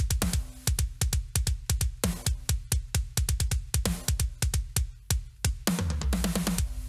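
A heavily compressed parallel drum track from a metal mix, solo: rapid punchy kick and snare hits in a driving rhythm with splashy cymbal crashes near the end, loud and squashed.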